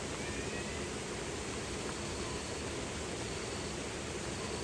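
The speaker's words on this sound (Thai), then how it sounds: "น้ำไหลดีขนาด" Water flowing strongly, a loud continuous broadband rush with no pauses, heard up close and without voices.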